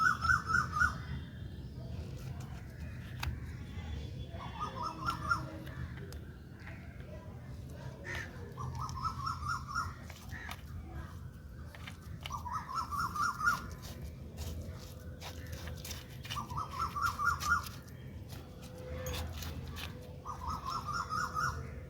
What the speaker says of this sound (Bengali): দেখো কি সুন্দর কোকিল ডাকছে